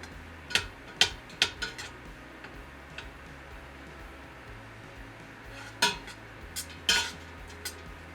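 Cabbage and pork frying in a pan get stirred with a utensil, producing sharp irregular clinks and scrapes against the pan over a low sizzle, close by with no speech.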